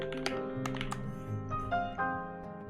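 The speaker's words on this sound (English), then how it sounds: "Keyboard test." Rapid typing on a KBDfans acrylic mechanical keyboard with a 5-degree case, no foam or mods, giving a quick run of close, crisp clacks and thocks with uneven rhythm and no voices.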